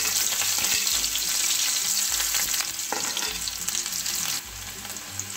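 Finely chopped onion and a few garlic cloves frying in hot oil for Nashik-style vada pav filling, a steady close crackling sizzle with occasional stirring scrapes, no talking.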